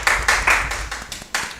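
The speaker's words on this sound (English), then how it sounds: "A round of applause for Miss Derica Samuel" An audience at a national youth debate claps for a speaker. A few sharp claps stand out at moderate distance, then trail off into scattered, fading applause.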